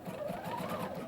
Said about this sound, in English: these can actually be stitched on the sewing machine